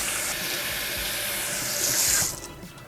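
Asparagus is rinsed under running tap water at a kitchen sink, a steady close splashing hiss that swells briefly before the flow is shut off.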